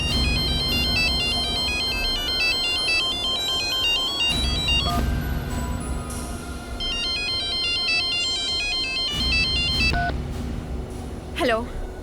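A phone ringtone plays a repeating electronic melody in several bursts, with a rumbling background beneath and a brief voice-like sweep near the end.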